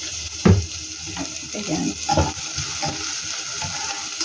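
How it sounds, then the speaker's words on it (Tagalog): Dried shrimp sizzles in a hot pan while being stirred, a close crackling fry with scraping stir strokes and a brief spoken word. "Igisa muna natin ang bahagya."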